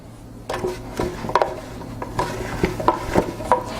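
A spoon scrapes and taps against a bowl while gluten-free cracker dough is mixed. The knocks and scrapes are soft, close and irregular, with no talking.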